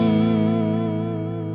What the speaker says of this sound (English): And now we're back on triangle.